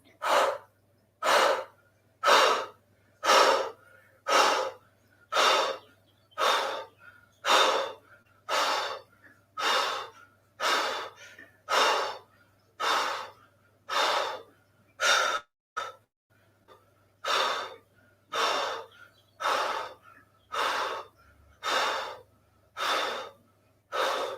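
Kapalabhati yoga breathing during an intermediate class: a steady series of about twenty sharp, forceful nasal exhalations in an even rapid rhythm, close and clear with no talking.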